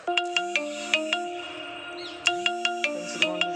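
A mobile phone rings out during a riverside fishing outing, with a bright electronic melody of sharp repeating beeps in two bursts, loud and close, with no talking.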